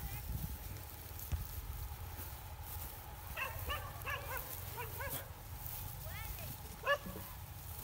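Several short beagle barks and yips at a distance in the countryside, scattered over a steady low outdoor rumble, with a louder bark near the end.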